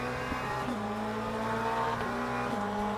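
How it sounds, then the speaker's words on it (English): A Porsche race car in a multiclass sim racing game at Imola drones past with a sustained engine note and slight pitch shifts, faint tire noise underneath, steady and continuous for a few seconds. "And there goes Kuste in the Porsche."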